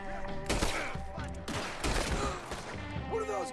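A gunfight in Red Dead Redemption 2 rattles with dense overlapping gunshots and cracks, loud and continuous, mixed with game sounds and a voice in the background.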